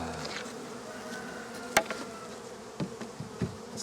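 Honey bees buzz steadily around an opened hive, a close, continuous insect drone with a few sharper knocks from hive handling, and no talking.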